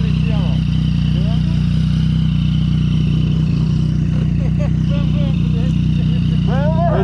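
A BMW S1000RR motorcycle riding with its exhaust muffler gone produces a loud, continuous engine drone under the whole stretch, while people talk over it.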